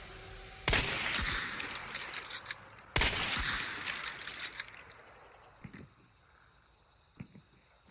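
Gunfire in a shooter video game: two loud bursts of shots in rapid succession, each trailing off into a fading tail, followed by a few faint clicks and a sharp report at the end.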